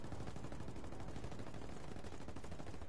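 Sustained gunfire in the Ghost Recon video game, a rapid continuous volley of shots like machine-gun bursts, steady and dense without pause, with no talk over it.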